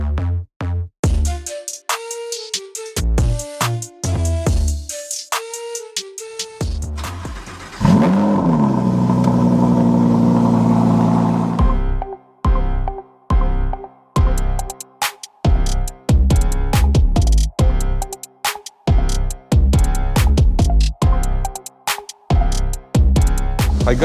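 A Lamborghini Huracan engine runs for a few seconds, rising as it is driven inside to be fitted with a Vorsteiner carbon fiber body kit, with loud rhythmic music before and after.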